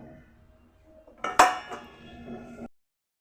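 A plate set over a pot of prawn chorchori gives one sharp metallic clink, followed by a softer rattle as it settles, then silence.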